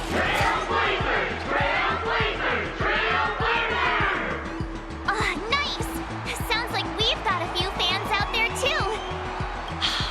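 Video game crowd cheering and roaring behind a female competitor, a loud swelling chant with voices talking over it, then fading into a busier mix of game sounds.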